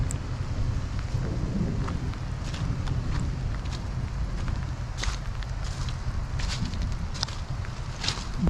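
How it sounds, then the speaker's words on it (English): Distant thunder rumbles low and steady through rain in Yankee Boy Basin, a wildflower-filled alpine valley, with a few sharper crackles and faint footsteps and wind noise on the microphone throughout. "Haven't seen any lightning, but you can hear the thunder."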